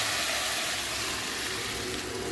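Toor dal pours into a pan of hot tempering in peanut oil, making a steady, loud, close sizzle and splashing hiss throughout with no talk.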